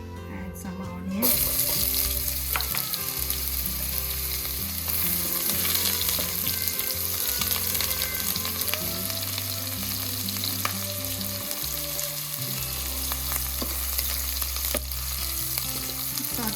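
Onions sautéing in a pan with bay leaves, cardamom, cloves, cinnamon and star anise for a Chettinad chicken curry, a steady loud sizzle and fry with occasional stirring scrapes, close and continuous.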